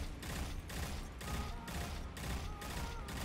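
Pulse rifle from the video game Destiny firing in rapid bursts, about six sharp, loud clusters of shots at a steady rhythm with brief gaps between them.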